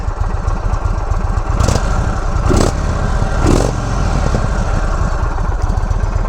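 A 2022 Indian Chief Dark Horse motorcycle idles loudly through its stock exhaust with a choppy, pulsing beat, blipping the throttle in a few short revs.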